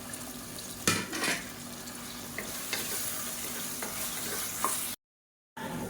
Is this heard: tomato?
yes